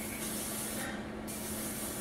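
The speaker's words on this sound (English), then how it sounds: "you're going to take your firm hold hairspray" A can of Indie Hair firm hold hairspray sprays close and loud, a steady hissing mist lasting about two seconds, with a brief dip in the middle.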